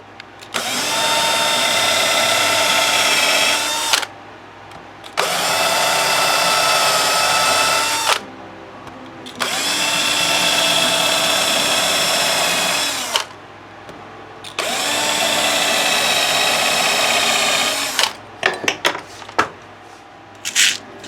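A power drill drives screws into a guitar body during a Barncaster rebuild, with four long steady whirring runs separated by short pauses and a few brief rattles at the end, close and loud, with no talking.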